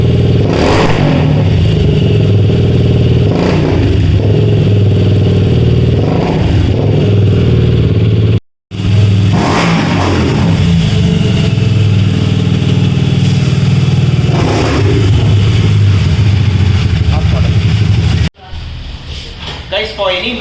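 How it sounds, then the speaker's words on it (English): Hero Xpulse 200 motorcycle engine revved up close in a workshop setting, repeated throttle blips rising and falling over a steady idle, loud and near, with a brief break partway through. "So I'm just revving the vehicle for you guys for the sound"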